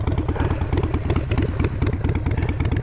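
A motorcycle engine with a loose exhaust pipe idles close by at about 1000 rpm with a steady, rapid chugging rhythm and slight clatter, no voices.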